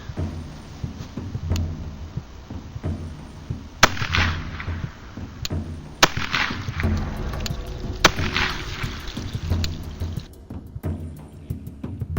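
A Beretta 21A .22LR pistol fires CCI Mini Mag rounds, giving several sharp, loud shots at uneven intervals with short echoing tails and no speech between them.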